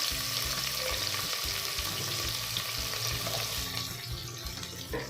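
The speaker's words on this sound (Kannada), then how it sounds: "ಇಲ್ಲಿ ಆನಿಯನ್ ಫುಲ್ ಸಾಫ್ಟ್ ಆಗೋದು ಚೆನ್ನಾಗಿ ಫ್ರೈ ಮಾಡ್ಕೋಬೇಕು" Finely chopped big onion frying in a pan with curry leaves, a continuous close sizzle with occasional stirring, easing slightly toward the end, no speech.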